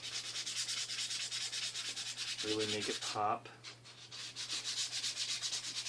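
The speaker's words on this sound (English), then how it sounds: "I'm just doing a little light sanding here to bring out the grain" Light hand sanding of wood to raise the grain before a polyurethane coat, a steady rhythmic back-and-forth rasp of repeated strokes, close and fairly loud, with a brief mumbled voice partway through.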